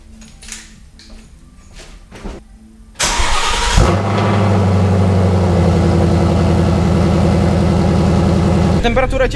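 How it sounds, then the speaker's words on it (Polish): A Ford Mustang GT fires up for the first time on a newly fitted exhaust system. A sudden loud start follows a quiet stretch, then the engine settles into a steady, deep idle that runs several seconds before cutting off. "pierwszy start silnika z nowym układem wydechowym. Zobaczymy jak to brzmi."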